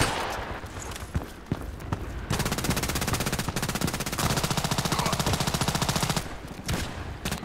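H&K 416c rifle firing in the Contract Wars shooter game, a sustained automatic burst of rapid, evenly spaced loud shots lasting several seconds, framed by a few scattered single shots before and after.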